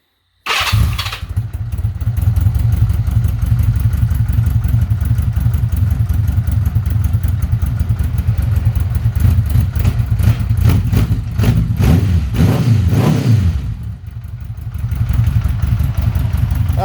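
A 1982 Honda Gold Wing Aspencade motorcycle engine fired up from cold and settling into a steady, low idle, loud and close with an even throbbing rhythm, briefly dipping near the end before picking back up.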